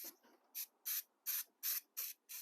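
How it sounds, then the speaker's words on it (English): 3M Super 77 spray adhesive sprays onto a model railroad scenery piece in six short, evenly spaced hissing bursts, close and quiet with nothing else around. "Now I want to coat it with some 3M Super 77 adhesive."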